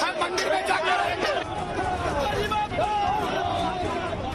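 A dense crowd of BJP party workers packed outside Siddhivinayak temple, a steady roar of overlapping chatter and shouting voices pressing close and loud throughout, with a brief dip in the din partway.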